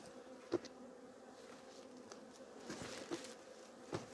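Honeybees buzz in a steady, faint drone around weak hives being merged, with a few brief louder passes of individual bees near the microphone; no talking.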